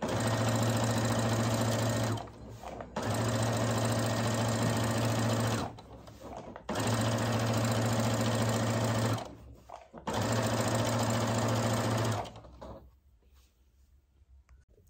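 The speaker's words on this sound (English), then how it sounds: "I'm just gonna stitch all the way down" A sewing machine stitches a seam along a zipper bag in four long, steady runs of rapid mechanical whirring, each broken by short pauses, close and alone before falling quiet.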